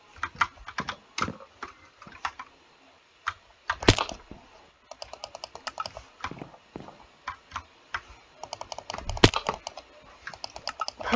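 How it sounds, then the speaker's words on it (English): Computer mouse clicks during a Minecraft game come as quick, close bursts and single sharp ticks, with irregular rapid runs and short pauses and no talking. "You can probably just hear my mouse clicking."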